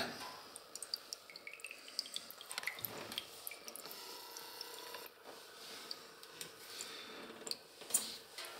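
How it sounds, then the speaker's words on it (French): Heating oil drips from a boiler fuel filter housing into a tray as the filter is changed, giving a steady patter of small close drips with faint ticking over a low background hiss. "Le gasoil va couler"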